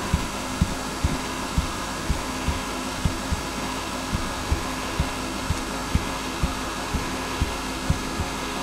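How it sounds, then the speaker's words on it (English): Small pneumatic compressor in a fischertechnik model running with a steady hum and evenly spaced rhythmic pulses, about two per second, close and moderately loud. "Now the compressor is going to run."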